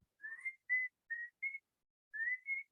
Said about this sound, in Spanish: Esto que estoy haciendo es whistle.